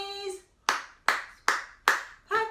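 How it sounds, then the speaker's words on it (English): Hands clap in a steady, even beat along to the children's song Old Brass Wagon: four crisp, close claps, with a singing voice heard at the start and again at the end. "concentrate on the clapping in the old brass wagon this time"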